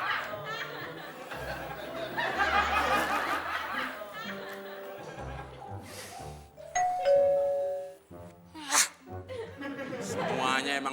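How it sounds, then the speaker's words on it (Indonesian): A doorbell chimes a clear ding-dong tone amid chatter and laughter from several people in a house, with indoor thumps and a short electronic ring toward the end. "Pakai pura-pura mencet bel, mau jadi tamu."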